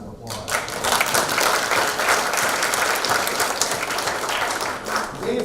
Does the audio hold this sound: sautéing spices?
no